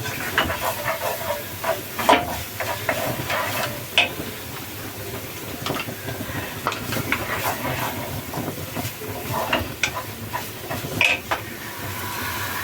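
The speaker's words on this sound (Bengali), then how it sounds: "কাঠের চামচে না নাড়লে মিক্স মিক্সিংটা ভালো হয় না" A wooden spoon stirs a carrot and egg sandesh mixture in a pan, with irregular scraping strokes over a constant sizzling hiss, close and moderately loud.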